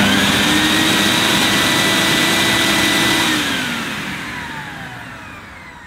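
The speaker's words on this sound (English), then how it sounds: "it's time to switch on this Vax HF1400" A Vax HF1400 combined upright vacuum cleaner and carpet washer running on its lowest setting, a loud steady motor whine and airflow roar close up that eases down in the final seconds.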